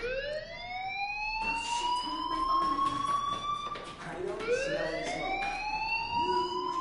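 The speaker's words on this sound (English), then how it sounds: "do you hear that fire alarm?" A fire alarm in the video game Life is Strange whoops as a rising, repeating electronic siren, with a person talking over it.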